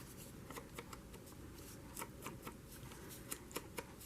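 Scissors snip the crusty end off a glue tube, giving a faint run of small crisp clicks and snips at an uneven pace over a quiet background.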